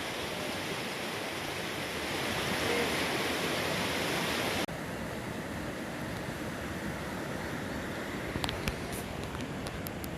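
A grassy backcountry river on a tramping track in New Zealand's Kaimanawa–Kaweka ranges, giving a steady, full broadband rush of flowing water that holds for the whole stretch and softens slightly partway through, with no voices.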